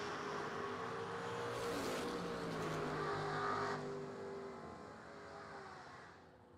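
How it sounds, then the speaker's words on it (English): Fox Body Mustang drag racing down the strip at a Friday bracket event, a steady, loud engine roar building and then fading away into the distance. "1100s head start going to Jake, down 613 in the Fox Body Mustang."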